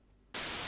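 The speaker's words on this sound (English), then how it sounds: "by here you can make the white noise" White noise generated in FL Studio 12 switches on abruptly after a brief quiet lead-in, becoming a loud, steady, full-band hiss that holds without change to the end.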